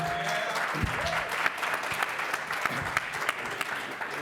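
Steady audience applause for panelists at a youth movement convening, many hands clapping densely and evenly throughout, with a few brief voices mixed in.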